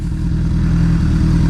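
A motorcycle engine idles steadily at a stop while the rider pulls in the clutch and clicks down into first gear, a continuous low rumble with faint clatter and no talking.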